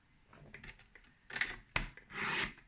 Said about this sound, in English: So there's my paper trimmer.